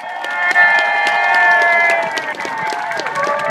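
A large outdoor crowd claps and cheers at the Red Arrows air display in Torquay, 2013, with dense applause holding steady throughout and a few whistles or shouts rising above it.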